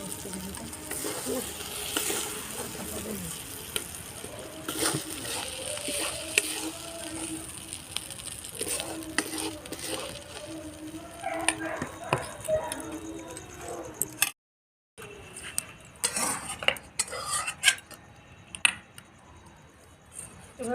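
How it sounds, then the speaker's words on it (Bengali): Spice paste being stirred and rubbed into chicken in a kadai for chicken bhapa, a steady wet scraping and squelching with soft clinks, close and continuous, pausing briefly near the end. "মশলাটা মাংসের মধ্যে ভালোভাবে মাখিয়ে নিতে হবে"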